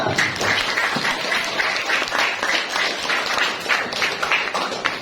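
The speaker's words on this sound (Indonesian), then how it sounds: "kalau sudah tepuk tangan untuk kalian semua" Students in a classroom applaud together, a continuous dense patter of many hands clapping at close range that holds steady for several seconds with no voices on top.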